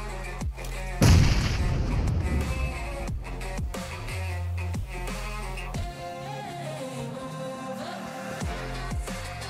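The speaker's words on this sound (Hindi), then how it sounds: "तो ये लड़का हम पे बम बारी कर रहा था" Heavy bombardment blasts in a battle royale shooter video game: one loud, close explosion boom early on, then further thuds and gunfire-like bangs over a busy bed of game music and effects.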